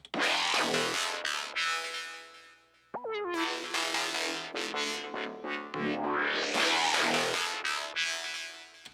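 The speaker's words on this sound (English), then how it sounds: "That growl is a serum patch that I pieced together." A loud, gritty Serum synth bass growls through a dense electronic mix, dropping out briefly before surging back in with pulsing, distorted energy.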